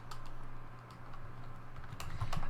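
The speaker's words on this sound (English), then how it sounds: "We're going to type" Keystrokes on a computer keyboard while code is entered into a text editor, a quiet, steady patter of clicks that grows slightly louder near the end, over a low constant hum.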